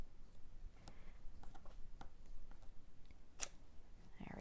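Scissors fussy cutting paper in a papercraft project: quiet, close snips and clicks scattered irregularly, with soft rustling between them.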